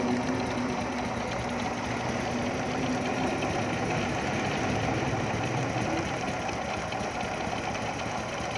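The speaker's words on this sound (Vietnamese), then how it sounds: "Em nghe tiếng máy không?" Honda Future motorcycle engine idling, a steady, even mechanical ticking and hum that holds at a constant level throughout with no revving and no speech.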